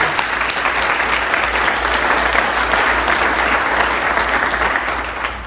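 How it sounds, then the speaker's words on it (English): An audience claps steadily at a conference picnic, a dense, even round of applause from a crowd sustained for several seconds, fairly loud and close. "So let's give them a round of applause."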